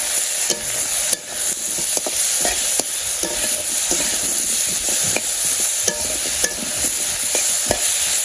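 Vegetables cooked down with salt, turmeric and chili powder in a pan, a loud constant sizzle broken by repeated sharp scraping strokes of the spatula, close up with no talking.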